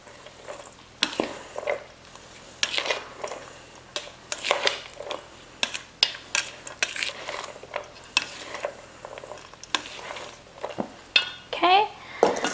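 Vegetables and salad for spring roll filling are tossed and mixed in a bowl, with clattering and scraping of a utensil in uneven bursts, fairly close.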